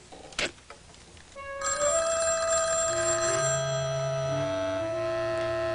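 A telephone rings in a 1986 home-safety film, each ring steady and insistent after a couple of sharp knocks or clicks, sounding loud and close with no talk over it.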